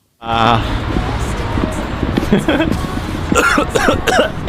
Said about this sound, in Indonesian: aku langsung batuk-batuk loh baru sebentar doang